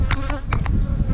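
Yellow honey bees from purchased Pendle queens buzz inside a nuc hive, a dense close-up insect hum with a few brief louder bursts over a steady low drone, no voices.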